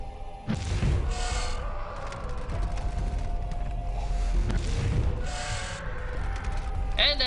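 Fire shooting at enemies in the video game Zeno Clash, heard as repeated loud whooshing, crackling bursts over a steady rumbling game soundscape with mechanical clanks, ending in a sharp blast.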